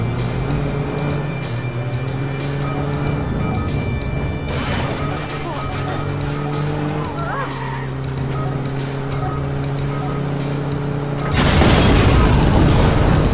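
Watch Dogs car engine roar and mechanical rumble build into a loud ramming crash boom near the end; players' voices talk excitedly over the game noise.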